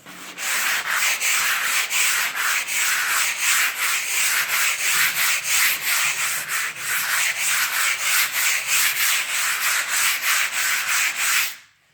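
Someone is hand sanding a prepared wall with a sanding block to knock off burrs. The strokes sound as fast, steady, rhythmic scratchy rubs, close and loud and without a break, then stop abruptly at the end.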